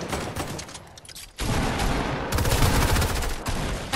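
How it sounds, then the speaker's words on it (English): Rapid bursts of automatic gunfire in a multiplayer shooter video game, dense and loud, with a brief lull before heavier sustained firing resumes and continues to the end. "Oh, I'm being shot at."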